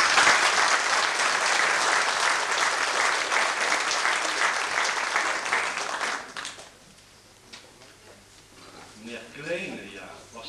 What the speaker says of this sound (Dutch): Geef hem eens een applaus.